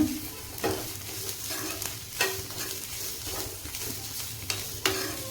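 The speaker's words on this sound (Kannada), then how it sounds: "ಇದು ಇನ್ನೂ ಒಂದು 5 ನಿಮಿಷ ಹಿಂಗೆ ಹುರ್ಕೊಳ್ಳೋಣ್ರಿ" Cluster beans are stir-fried in a pan, the sizzle steady and close. A spatula scrapes and taps against the pan every second or so, each stroke clear, with no talking.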